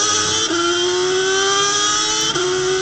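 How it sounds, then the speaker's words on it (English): A COMMA SRF3 race car at Hallett Motor Racing Circuit holds a loud, steady high-pitched engine whine under acceleration. The pitch climbs smoothly twice, dropping briefly at each gear change, with no talking. "I like the sound of the engines a little bit better, and high speed sounds more like a crotch rocket."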